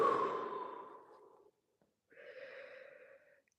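A deep exhale during a standing stretch comes as a long, breathy, fading sigh right at the mic, followed by a short pause and then a second softer, airy breath.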